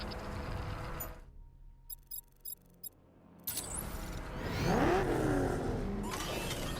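Batmobile from Batman: Arkham Knight roaring as its engine revs loudly, following a quiet gap with a few short clicks, the revving swelling and sweeping in pitch through the final seconds.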